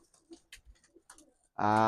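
A pair of pigeons kept for sale, quiet at first apart from scattered soft clicks and rustles, then one lets out a loud, close coo that fills the last moments.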